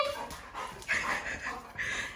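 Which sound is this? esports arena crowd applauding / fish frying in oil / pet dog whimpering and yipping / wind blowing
pet dog whimpering and yipping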